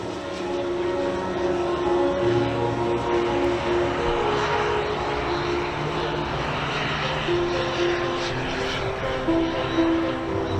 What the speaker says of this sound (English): Nice low pass there on the CARF model jet.